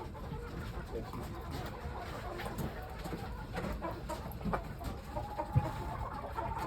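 Soft clucking from chickens gathered at a drinker, scattered low calls over a steady background hum, faint and somewhat distant, with a few sharper clucks near the end.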